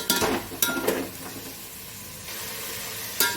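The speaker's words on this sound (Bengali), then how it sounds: "ভালো করে মশলাটা দিয়ে কষিয়ে নেব।" Ground spice paste with a splash of water is stir-fried in a pan. A steady sizzle runs throughout, broken by loud scraping strokes of the spatula near the start and again at the end.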